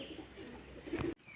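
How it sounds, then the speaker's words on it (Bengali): Pigeons gather on a rooftop as grain is scattered for them, with a brief, soft cooing call close by against quiet outdoor background. "পায়রা খেতে দেওয়া মাত্রই ফু করে কিরকম ছাদে লাভছে"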